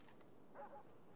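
Dogs in the video game Far Cry 4 give a brief, faint yip and bark in the middle of a steady ambient game soundscape, with no talking.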